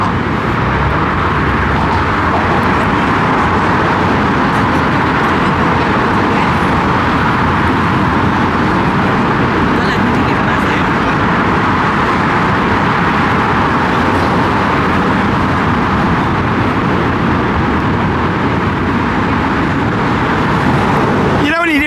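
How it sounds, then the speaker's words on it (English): Steady, dense roar of cars crossing the Brooklyn Bridge in New York City, continuous traffic noise heard close and loud throughout without pause. "That's a satisfying noise, isn't it? The cars crossing over"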